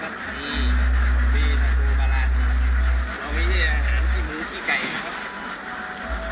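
Ducks waiting for feed quack and honk in a noisy, busy chorus, with loud low calls in long bursts and general farmyard chatter mixed in.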